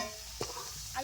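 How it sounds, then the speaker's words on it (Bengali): Food seasoned with turmeric fries in a pan with a steady close sizzling hiss and one brief scrape of stirring, no voices. "এগুলো এখন ভেজে নিচ্ছি"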